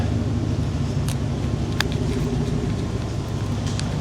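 A Ford F250 truck taken from a junkyard idles and backs out, giving a steady, close low engine rumble with a few faint high clicks and ticks over it and no talking.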